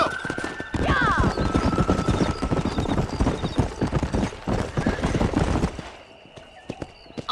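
Horse hooves galloping at speed in the Red Dead Redemption video game, a loud continuous clip-clop rhythm with a brief whinny near the start, fading out abruptly toward the end.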